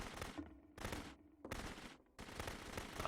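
Gunfire in a video game crackles in loud, dense bursts, several rapid volleys separated by short pauses.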